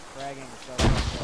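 A frag grenade goes off in an Arma video game, a sudden loud, broadband blast that arrives after quieter tonal game sounds, with a brief second burst following.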